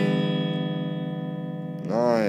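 A string instrument with a broken string, played so it gives a sustained, buzzy harmonic-rich tone that holds steadily, then shifts into a wavering, bending sound near the end; fairly loud and close, with no talking.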